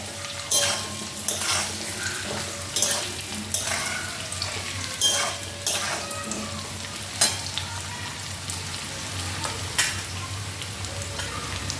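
Food frying in a pan at a home stove with steady sizzling, plus recurring stirring scrapes and clinks of utensils against the pan, close and fairly loud, with no voices.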